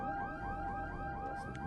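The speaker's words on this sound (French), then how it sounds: "Une minute plus tard, les sirènes se déclenchent à nouveau." A missile alert siren wails in rapid repeating sweeps, steady and moderately loud, with no voices.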